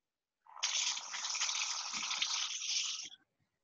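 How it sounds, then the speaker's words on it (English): Hollandaise sauce with lime juice is whisked briskly in a bowl, a continuous close swishing and scraping that starts abruptly, holds steady for under three seconds, then stops. "So I'm going to add the lime juice and keep whisking."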